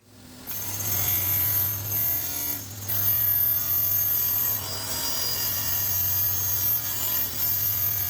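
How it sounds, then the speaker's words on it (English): A power saw with a fine blade cuts plexiglass acrylic sheet for display windows, a steady close grinding whine with a low hum running nearly unbroken for several seconds after a quick start. "I can finally start cutting out some plexiglass for the display windows"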